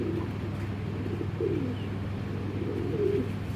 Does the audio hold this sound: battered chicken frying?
no